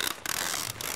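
A weapon is reloaded in the Left 4 Dead video game: a short, dense metallic clatter of mechanical clicks and ratcheting, close and steady for about a second.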